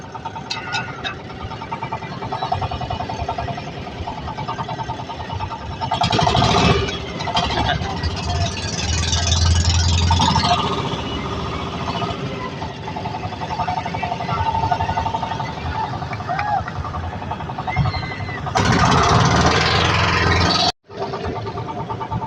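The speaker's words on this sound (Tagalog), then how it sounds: "Kailangan talaga lagi pinapagana ng malakas yung makina." A vehicle carrying a saint's image in a Karakol procession in Rosario, Cavite, its engine revved loudly and running steadily throughout, with crowd noise and occasional talk mixed in and a brief cut near the end.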